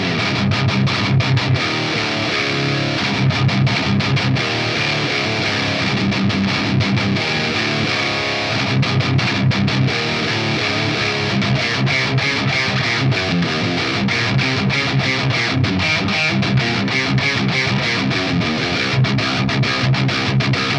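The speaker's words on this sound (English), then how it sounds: "Let's push this gain up though and see just how much gain we have on OD channel 1." A high-gain electric guitar plays through a Crab Brown Eye 50W amp on its OD channel, dense distorted riffing with sustained chords and chugging rhythm, loud and continuous throughout.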